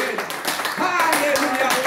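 A church congregation claps together, dense and fairly loud, with voices calling out over the applause.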